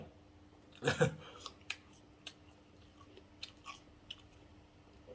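Crisp bites into a crunchy green apple, one loud snap followed by a string of close, wet crunching chews spaced irregularly in a quiet room.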